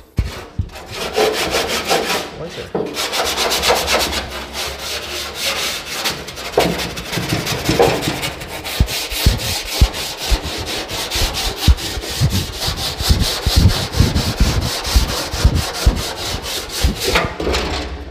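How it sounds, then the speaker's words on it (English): A wire brush scrubs a Mustang car part with steady, loud, rasping strokes that run almost continuously and close up, with no talking over it. "I'm going to use the wire brush"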